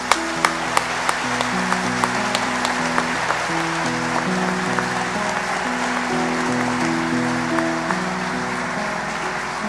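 Dense, even applause from a church congregation at a Wednesday service fills the space, with sustained organ or keyboard chords underneath and a few sharper percussive hits.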